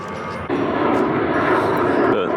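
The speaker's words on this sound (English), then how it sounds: "our hotel's right next to the airport, so you can hear that airplane" An airplane flies low near the San Diego airport by a marina, its roar jumping up suddenly and staying loud and steady to the end.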